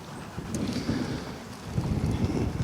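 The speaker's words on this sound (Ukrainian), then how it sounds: "Зараз вітер." Wind buffets the microphone in uneven gusts at an outdoor funeral gathering with many flags, a low rumbling rush that swells louder toward the end.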